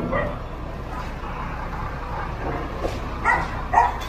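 An abandoned dog yips and whimpers during a street clearing operation in Moriones, with short cries rising over low outdoor street noise while voices talk in the background.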